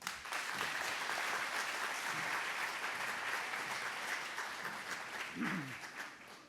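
An audience claps steadily to welcome Dr. Tony Clarke at a talk on economic justice and human rights, a full, even burst of applause that tapers slightly toward the end.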